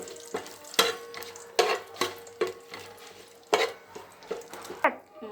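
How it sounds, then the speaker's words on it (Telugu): Ingredients frying in a pan for chicken dum biryani, with repeated sharp scraping strokes of a spatula against the pan at a quick, uneven rhythm over a low sizzle. "సో కొంచెం ఇవి వేగుతున్నాయి."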